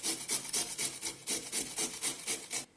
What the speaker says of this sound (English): As for the cucumber, I'll peel it, remove the seeds, and grate it.